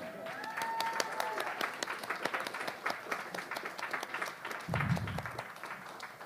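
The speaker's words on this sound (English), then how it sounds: "One more round of applause." An audience claps at the opening of an arts and environmental justice symposium, steady moderate applause with a brief whistle-like tone early and a short low rumble near the end, somewhat distant.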